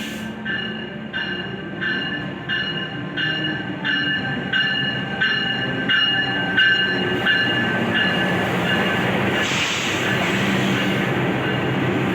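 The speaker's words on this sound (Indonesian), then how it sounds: "Akan segera masuk di jalur 3 kereta api Argo Wilis dari Bandung" The Argo Wilis train from Bandung rolls into a station on track 3, a loud steady rumble with rhythmic clickety-clack of wheels over rail joints and a brief high squeal near the end.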